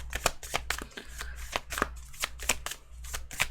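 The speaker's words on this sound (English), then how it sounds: "I'm just talking while I'm shuffling because it's taking so fucking long." Tarot cards are shuffled steadily and close up, a fast run of crisp riffling snaps and soft flicks repeating without pause, with no talking.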